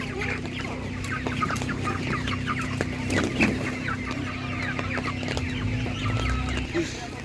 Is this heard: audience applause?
no